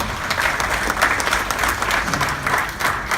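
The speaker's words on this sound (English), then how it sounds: "Let's give these Sapphires a round of applause." A crowd at a business conference in Mumbai applauds Sapphire-level members, a loud, close, continuous burst of clapping with individual hand claps standing out.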